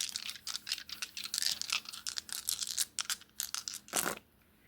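Bicycle brand dice drop and tumble in a rapid series of close, crisp clicks and rattles that come in quick bursts, with one final louder clatter before the sound stops.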